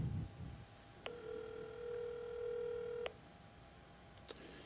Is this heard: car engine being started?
no